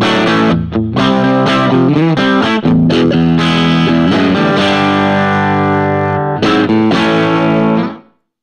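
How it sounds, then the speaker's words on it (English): An overdriven electric guitar plays loud, distorted chords through a cranked amp, sustaining heavily before cutting off at the end. "If I gun the volume and the gain, it's going to get into some sort of tweedy kind of territory."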